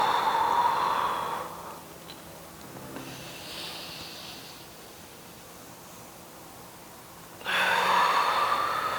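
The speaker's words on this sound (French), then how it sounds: "De grandes respirations." During a yoga session, deep breaths sound as slow, loud, airy exhales at the start and end, with a softer, quieter stretch of breathing between them and no talking.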